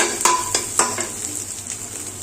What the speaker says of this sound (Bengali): এবার চাউমিনগুলো দিয়ে দেবো,